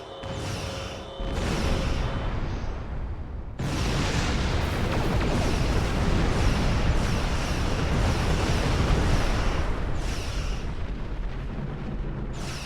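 Space-combat explosions from the Star Trek Online video game boom and rumble in broad, sustained blasts that fill most of the stretch, with a short lull early on and no talking.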